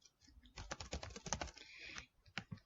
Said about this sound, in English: I can now add a collaborator by typing in their email